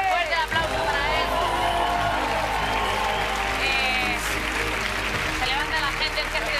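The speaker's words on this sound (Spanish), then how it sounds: "Fuerte el aplauso para él." Studio audience applauds a Got Talent contestant, sustained dense clapping with cheering and crowd noise throughout, while a presenter's voice calls out over it.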